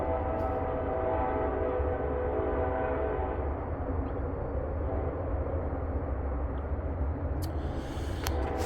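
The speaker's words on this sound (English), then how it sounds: "yeah, like I said, we have trains." A train rolls past near a garden late on a December day, a steady, loud rumble throughout with sustained horn tones in the first few seconds.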